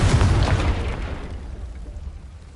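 The Confringo fire spell from Hogwarts Legacy bursts in a single loud, deep boom, then rumbles and fades away over about two seconds.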